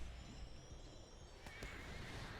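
A war steed horse neighs in the online game Lord of the Rings Online, a short whinny followed by a couple of sharp hoof or tack clicks over a steady low background wash.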